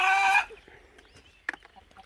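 A loud, brief squawk from a chicken, followed by quieter scattered clucks and small pecking sounds nearby.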